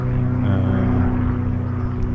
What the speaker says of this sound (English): over the sound of synchronized flying between a Spitfire and a private plane, they do that all day most days